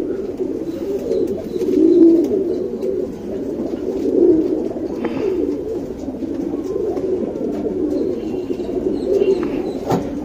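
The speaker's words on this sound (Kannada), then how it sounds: "ಎರಡೂ ಟೈಗರ್ ಚೀನಿಗಳಿದ್ದು, ತುಂಬಾ ಚೆನ್ನಾಗಿದೆ ಜೊತೆ ಇದು" A pair of Tiger Chini pigeons, a male and a female, coo close by in soft, low, rolling phrases that swell and fade repeatedly over a steady background, with no one speaking.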